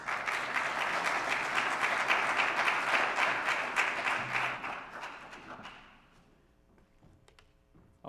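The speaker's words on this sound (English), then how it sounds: "I always chuckle a little bit when we get applause for coming up" Church congregation applauding as performers come up, dense steady clapping for about five seconds that fades away into quiet near the end.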